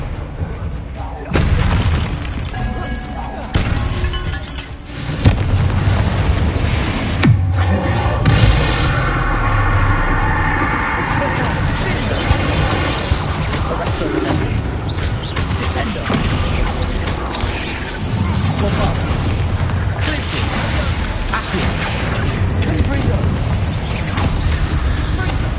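Confringo spell explosions in Hogwarts Legacy boom repeatedly through a long stretch of game noise, with sharp blasts, crashing debris and a steady low rumble, while a voice talks intermittently underneath.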